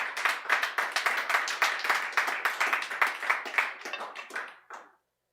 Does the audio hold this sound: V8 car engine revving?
no